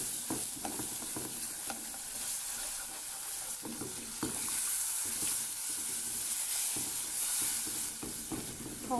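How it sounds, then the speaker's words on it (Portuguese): Milk poured a little at a time into a flour roux in a pan and stirred in, with a steady low sizzle under repeated scraping strokes of a spoon, close by and without talk. "Agora eu vou colocar o leite, vou colocando aos poucos e vou misturando."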